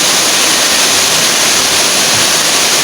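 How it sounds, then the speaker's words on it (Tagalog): Strong rushing water from a powerful river or waterfall, a loud, steady broadband roar that fills the whole clip with no pauses and no talk over it. "Hindi tayo lalapit sa tubig bro. Grabe ang lakas."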